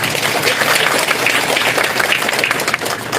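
A church congregation claps loudly and continuously, a dense, close wash of many hands with no break over a few seconds.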